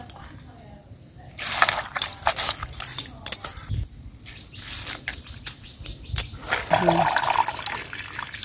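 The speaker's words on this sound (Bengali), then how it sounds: "শাকের মধ্যে অনেক মাটি, ভালো করে ধুয়ে নেন লাগবো।" Leafy greens heavy with soil are washed by hand in water in a Bangladeshi village, giving close, irregular splashing, sloshing and rustling bursts with brief quieter gaps and a faint voice at times.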